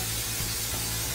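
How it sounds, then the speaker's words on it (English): A steady, continuous aerosol hiss of Pam nonstick cooking spray onto a hot grill pan, close and fairly loud, lasting over a second with no talking. "Take some Pam nonstick spray, spray it on there."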